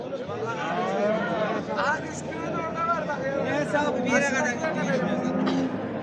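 A cow moos with drawn-out lowing calls amid a busy cattle market in Çorum, Turkey, with people talking and chattering nearby throughout.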